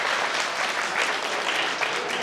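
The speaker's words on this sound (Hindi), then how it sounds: "वो लोग ताली बजाएंगे।" School students in a seminar audience clapping together loudly, a dense continuous burst of applause filling the room with no talk over it.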